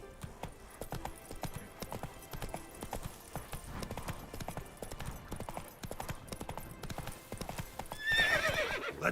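Hooves of Roach, Geralt's horse in the video game The Witcher 3, clip-clop steadily at a gallop throughout, with a whinny near the end over the rhythmic footfalls.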